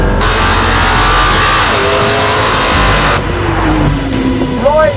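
McLaren P1 sports car accelerating hard on an open road on the Isle of Man, a loud, sustained engine roar with rising pitch through the gears, close and dominant throughout.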